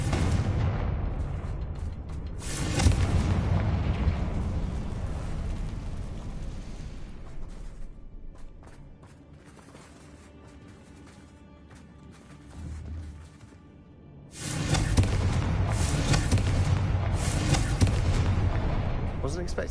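Confringo fire spell in Hogwarts Legacy on PS5, heavy booming blasts with rumbling crackle, a loud burst early, a quieter lull, then another sustained roaring explosion wave late, with game music and ambience underneath.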